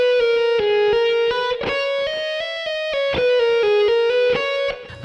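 Distorted electric guitar plays a fast legato run descending through triplet groupings, bright sustained notes stepping down in pitch with smooth hammer-on and pull-off transitions, loud and continuous without talk.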